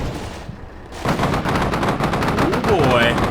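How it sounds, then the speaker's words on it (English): Machine gun fire in the Combat Mission: Shockforce 2 war game, a steady rapid rattle of shots that starts suddenly over a low background rumble, with a faint whistling tone near the end. "we're taking some machine gun fire from up there on the hill"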